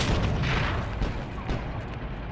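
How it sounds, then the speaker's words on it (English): Repeated grenade blasts in the online shooter Heroes & Generals, a dense run of booming explosions and crackling debris that carries through the whole stretch with no pause, loud and close. "I can just throw grenades all day in here."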